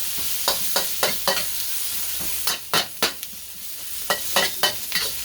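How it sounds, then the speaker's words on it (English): Beef sizzles steadily in sesame oil in a hot wok while a utensil scrapes and clanks against the metal in irregular bursts. "Cook these up real quickly in the sesame oil"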